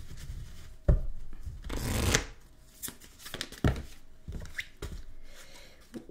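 Tarot cards are shuffled by hand in several bursts of crisp riffling and soft slapping, close and fairly quiet, with short pauses between passes and no talking.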